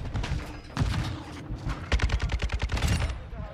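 A weapon fires in a shooter video game in rapid, punchy bursts: a few separate blasts, then a quick rattling volley of close, loud shots.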